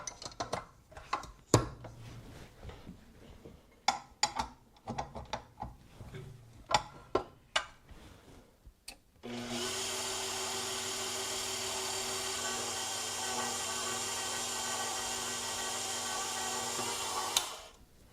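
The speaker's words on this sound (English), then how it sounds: "So let me get this started on my stand mixer." A stand mixer kneads bread dough made with powdered goat milk, a steady loud motor whir starting partway through after a run of clinks and taps, running unbroken until it stops near the end.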